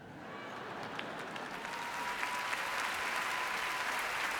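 An audience at a sports awards ceremony in a theater applauds, the clapping swelling from moderate to a dense, sustained ovation throughout.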